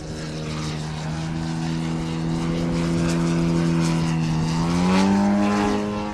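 A radio-controlled aerobatic model airplane with a 157 cc engine, weighing 21 kg, flies at an air show meeting, its engine droning loud and steady before the pitch climbs sharply as it throttles up near the end.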